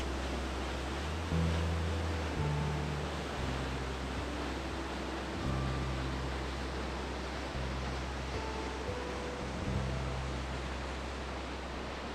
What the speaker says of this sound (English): with the rain continuing to pour, it features a large, powerful waterfall which crashes through